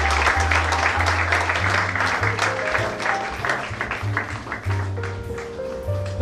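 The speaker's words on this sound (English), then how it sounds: "Another wonderful round of applause for Imelda Abba for that wonderful delivery." Audience applause at a cabin crew fair, steady dense clapping lasting several seconds with a low musical hum underneath and no talking.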